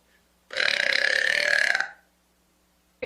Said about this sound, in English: I can burp really loud